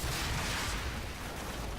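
A loud, broad burst of explosive noise in the video game Call of Duty: Modern Warfare, filling the whole moment, dense and roaring without clear separate blasts, with no talking.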